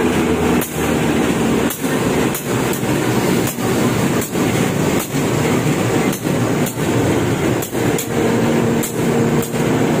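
An Indonesian Kahuripan passenger train rumbles steadily, its wheels clacking over rail joints in a regular rhythm, loud and close, with no voices.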